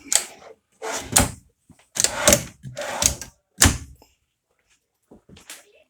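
Drawers in a 2019 Bounder 33C motorhome being opened and shut: five loud wooden thunks and slides in quick succession, then a fainter knock near the end, with no talk.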